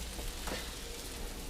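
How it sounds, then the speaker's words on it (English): Buttered bread frying in a pan beside sunny-side-up eggs, giving a faint, steady crackling sizzle that holds evenly throughout, with no one speaking over it. "now we're going to get a bit of sizzle because there's butter all over these"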